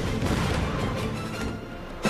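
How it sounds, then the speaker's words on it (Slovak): An explosion in a Slovak-dubbed teen TV drama fills the moment with a heavy, sustained rumbling roar that stays loud from start to finish, ending with a sharp thump. "O 5 sekúnd dôjde k explózii, kryte sa."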